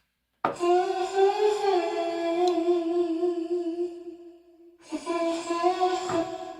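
A low, drawn-out vocal tone with a thick reverb tail sustains for several seconds, fades, then a second swell of the same slowed voice enters.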